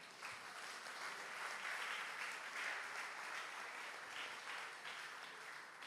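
Audience applause for the first-prize winner of a contest, continuous, fairly even clapping heard at a distance and faint overall.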